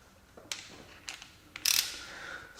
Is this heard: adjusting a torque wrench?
yes